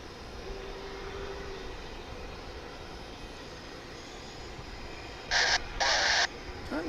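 Airplane at DFW International Airport, a steady broad engine roar holding level throughout, with a few brief louder bursts near the end; no talk.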